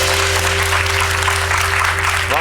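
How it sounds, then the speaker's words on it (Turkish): A studio audience at a Turkish late-night talk show applauds health workers in the room, a dense, continuous clapping that holds steady throughout. "Burada bu akşam burada olan sağlık çalışanlarımızı bir alkışlayalım mı?"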